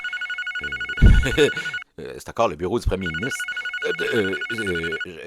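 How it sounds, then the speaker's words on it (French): A telephone rings in repeated electronic trills that carry steadily under someone talking in French. "Là, tabarnak, le téléphone sonne encore."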